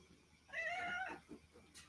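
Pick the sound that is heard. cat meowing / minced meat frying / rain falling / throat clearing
cat meowing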